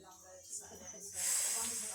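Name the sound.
snake hissing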